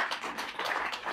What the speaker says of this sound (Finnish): Annetaan aplodit Mikko Kuosmaselle.